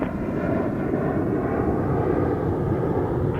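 An RJ900 regional jet at Toronto Pearson Airport roars steadily and loudly, a continuous broadband engine rumble with no break.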